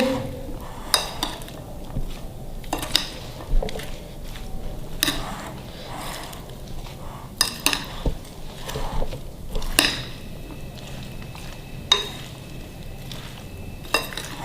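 Fruit chaat with pomegranate is mixed in a bowl, giving repeated close clinks and scrapes of a spoon against the dish in an irregular rhythm, with quiet gaps between bursts.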